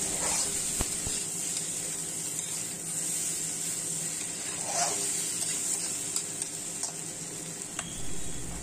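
Pigeon meat with spices frying in a pan, stirred over and over: a steady, close hiss of sizzling oil runs throughout, with occasional light scrapes and clinks and no speech.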